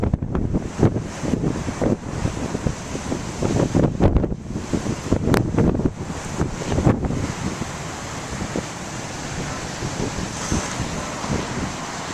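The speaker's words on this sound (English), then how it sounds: "You can see for yourselves how windy it is. Check out the waves and the spray water." Strong west wind roars across the microphone beside big crashing surf and spray, a loud continuous rush with uneven gusts and surges.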